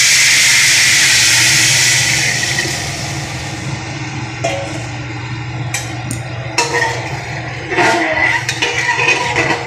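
Water poured into a hot pot of khichuri bursts into a loud steaming hiss that gradually fades into bubbling and sizzling, with a low burner hum underneath and no talking.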